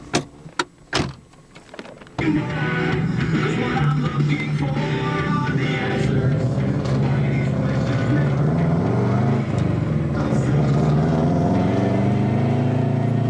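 A car engine that burns a lot of oil starts after a few short clunks and then runs steadily, a loud, rough drone with no voices over it.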